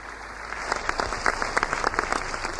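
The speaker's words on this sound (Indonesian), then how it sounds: "Berikan tepuk tangan yang meriah buat Tuhan." Applause for God during a church service, steady crowd clapping that fills the room at moderate volume, with sharper individual claps standing out over a constant background hiss.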